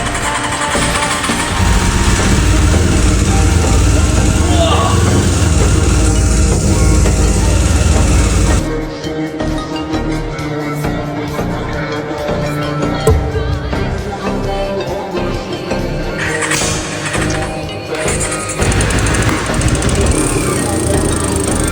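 A small restored engine fed from a temporary fuel bottle rather than its rusty tank runs steadily and loudly, a continuous rough drone that changes character partway through and then carries on unevenly.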